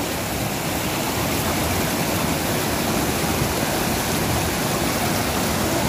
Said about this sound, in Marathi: एकदम नितळ छान खळाळतं पाणी आहे.